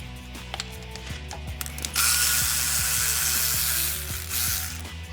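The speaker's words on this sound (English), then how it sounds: "So we're gonna take that 12mm socket and we're gonna take this loose." Hand ratchet with a 12mm socket working an ABS line bolt on a 4th-generation Toyota Tacoma axle, giving repeated quick clicking strokes over a steady background hum, close and fairly loud, with no talking.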